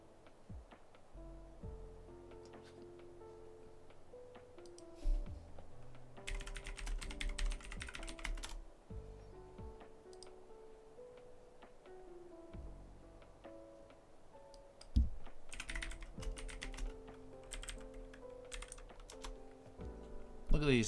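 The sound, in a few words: loud computer keyboard typing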